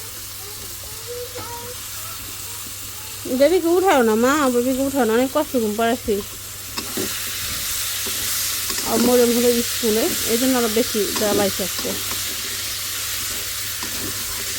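Pigeon meat sautéing in a pan as it is stirred, a steady close sizzle and hiss that runs beneath stretches of conversation.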